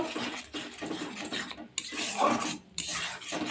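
Cornflour is stirred into Manchurian gravy in a pan with a metal spoon that scrapes and clinks against the pan in repeated strokes, close and moderately loud, with brief pauses.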